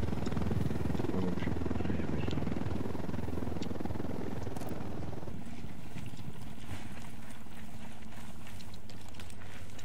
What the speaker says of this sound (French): Il y a un hélico.